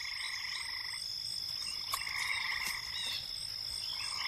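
Frogs or toads croak in a steady, overlapping chorus, with a few sharper calls standing out over a constant background hum and no voices.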